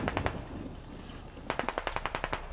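Bursts of automatic gunfire from the military shooter game Squad: a short volley of three or four shots, a pause, then a longer rapid string of about ten sharp shots, loud and close.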